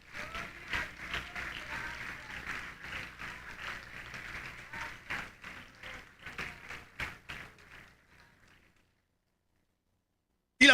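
A church congregation applauds during a vacation Bible week service, a burst of many hands clapping with distinct rhythmic spikes that gradually thins out and stops near eight seconds, followed by silence and a brief loud thump at the end.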